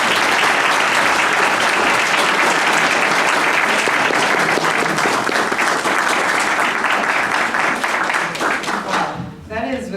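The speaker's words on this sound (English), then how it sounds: "Please give a huge round of applause to our keynote speaker" A conference audience gives loud, sustained applause for a keynote speaker. The dense, even clapping continues for several seconds and then tapers off quickly at the end.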